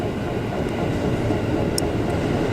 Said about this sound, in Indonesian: kereta sudah datang